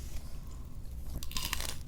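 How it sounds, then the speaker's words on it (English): Crunchy food is bitten and chewed close to a raised microphone in a home kitchen, with a low background hum. Sharp crisp crunches cluster in the last second of the clip. "Pull the mic up so we can get that crunch in there."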